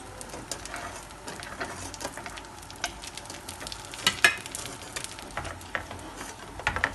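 Heated butter is poured slowly over künefe cooking in a pan, giving a steady close crackling sizzle with scattered pops and small clicks throughout, and no talk.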